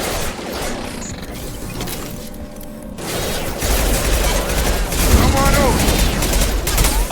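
Sustained rapid gunfire and shots in a Mass Effect 2 combat firefight, dense and loud throughout, with background game voices under the battle noise.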